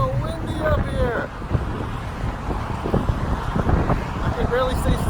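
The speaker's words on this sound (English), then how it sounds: "It's so windy up here." Strong wind buffets the microphone on the Golden Gate Bridge, a loud, gusty rumble running throughout, with a person talking over it.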